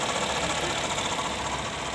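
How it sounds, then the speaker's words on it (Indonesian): A flood-damaged Honda Jazz running its engine for the first time after electrical repairs, a steady, close, fairly loud idle with a dense, slightly rough drone and no talk over it. "Mesin udah nyala, udah hidup."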